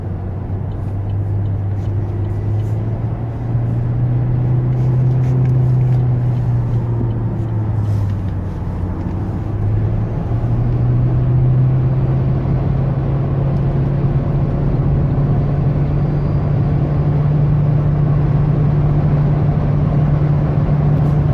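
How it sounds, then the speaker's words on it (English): A 2013 Chevrolet Volt driving fast, heard from inside as a steady droning hum whose pitch slowly rises, with constant road noise underneath and no talking. "This car really does go quite fast"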